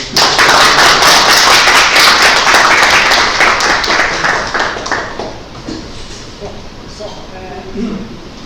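Lively audience applause at a physics teaching mini-course, loud and sustained for several seconds before thinning out, with a voice then speaking over the fading claps.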